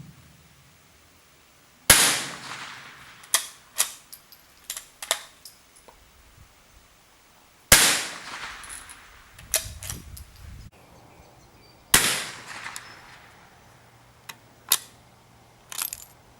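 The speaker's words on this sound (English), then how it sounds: "So I'll fire on the command of the range officer." Gunfire at an Australian shooting range, with three sharp, loud shots, each followed by a few quicker cracks and clicks of handling. Quiet gaps separate the groups.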